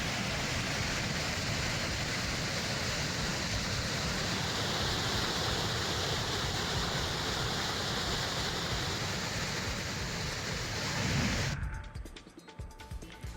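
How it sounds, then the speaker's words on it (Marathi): Water gushing from a leak in the right-bank canal of the Ujani dam irrigation system, a steady, full rushing roar heard up close, continuous until it drops away near the end. "उजनीच्या उजव्या कालव्याला गळती लागलेली आहे, त्यामुळे लाखो लिटर पाणी वाया जात आहे"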